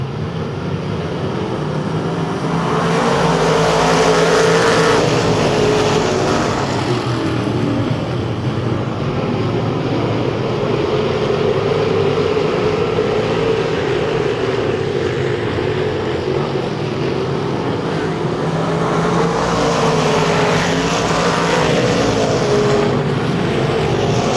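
Race cars circle the dirt track at Lake of the Ozarks Speedway, a steady roar of engines that swells and fades as the field passes, with crowd and track noise blended in and no talk.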